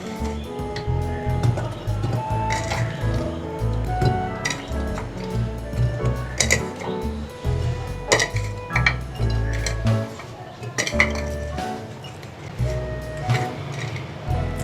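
Garlic, onion and green chillies dropped into a jar for a vinegar pickle, giving a series of light clinks, taps and rattles of pieces and utensils against glass, close and fairly clear.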